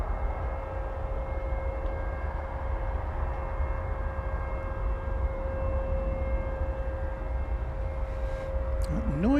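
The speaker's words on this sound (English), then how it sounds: "Noise you hear is sounds kind of like a siren," An aircraft air start unit at DFW Airport gives off a steady, sustained siren-like whine over a low rumble of airport noise, holding one pitch throughout, with a faint rising sweep at the very end.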